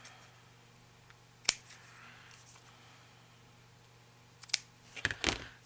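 Scissors trim paper for a handmade rose envelope journal in a few short, crisp snips, one near the start and a quick cluster near the end, with quiet room tone between.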